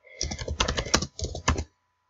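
Quick clusters of keystrokes on a computer keyboard, several bursts of close, crisp clicking separated by brief pauses, then silence at the end.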